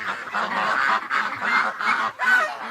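A flock of young ducks at a pen honk and quack continuously, close and fairly loud, in overlapping bursts with a brief lull near the end.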